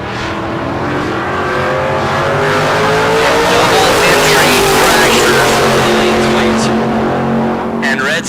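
Drag race cars, an orange 1966 Chevelle and a silver 1969 Camaro, roaring at a bracket race, loud revving engines rising through gears with some tire squeal, heard under an announcer's continuous commentary.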